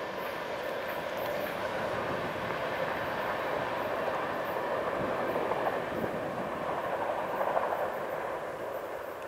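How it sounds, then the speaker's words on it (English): A freight train hauled by two locomotives on the BNSF Hinckley Subdivision rumbles past steadily and loudly for the whole stretch, a continuous rolling roar with faint rail clatter. "It is truly remarkable what two locomotives are capable of."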